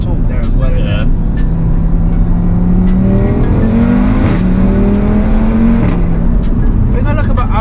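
A stage 3 big-turbo Audi RS3 tuned to about 700 bhp accelerating hard, the engine note climbing through several rising sweeps, loud and steady under people talking.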